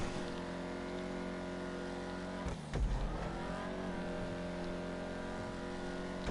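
An Overflod Tyrant supercar in GTA Online drives around a race track. Its engine holds a steady high drone, then drops briefly and climbs back up as it shifts or brakes, and the engine note runs on with no voice over it.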